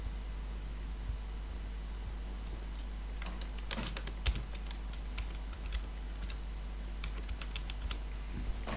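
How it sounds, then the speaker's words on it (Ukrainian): Quiet clicking of computer keyboard keys as a password is typed in, irregular bursts of close taps over faint background hiss. "набираємо пароль для доступу в eHealth"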